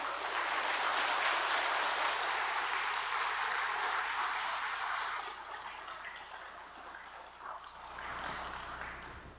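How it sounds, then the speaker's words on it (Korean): A large church congregation claps steadily for several seconds, loud and dense, then tapers off, with a brief swell of clapping near the end. "나오실 때에 박수로 환영하도록 하겠습니다"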